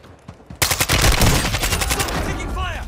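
Rapid gunfire bursts in the Warzone 2 video game erupt suddenly and keep up a dense, loud crackle of shots, with faint game noise before the shooting starts.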